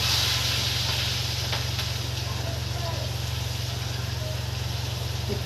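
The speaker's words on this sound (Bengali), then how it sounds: "এখানে দিয়ে দেবো কালো জিরে ফোড়ন, আর দিয়ে দেবো কেটে রাখা পেঁয়াজ।" Chopped onion and nigella seeds sizzling in hot oil, a steady broad hiss running throughout under a constant low hum, with a voice speaking over it.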